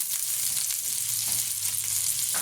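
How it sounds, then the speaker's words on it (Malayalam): Two small cubes of butter, about two spoons, melting on a hot dosa griddle, giving a steady, close sizzle that holds even throughout with no talking. "ഇനി ഞാനിവിടെ ഒരു ദോശക്കല്ല് അടുപ്പത്ത് വെച്ചിട്ടുണ്ട്. ഇതിലേക്ക് ഒരു 2 സ്പൂൺ വെണ്ണ"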